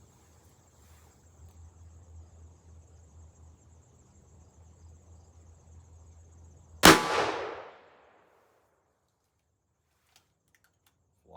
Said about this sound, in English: next up is the Hornady 140 grain XTP bullet in 38 Special. Be running this out of the 5-inch Ruger GP100